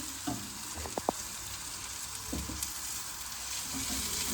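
Vegetables sizzle and fry in a pan with a steady hiss, punctuated by a few brief clinks and scrapes of stirring, close by and moderately loud, no voices.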